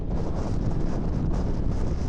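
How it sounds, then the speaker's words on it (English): Strong wind on an open hill roars and buffets the microphone in a loud, steady low rumble with no break. "It's windy."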